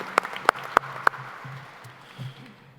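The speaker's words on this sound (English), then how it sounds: "we'd like to give you a round of applause for your help tonight" Applause from an audience at an evening business meeting: a few sharp, distinct claps in a quick row at the start, then fading into quiet room noise.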